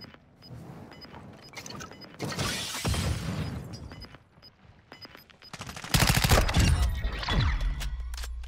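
Call of Duty Modern Warfare gunfire crackles in bursts of sharp shots and rapid volleys, with loud peaks and a shattering impact, set against muffled in-game ambience.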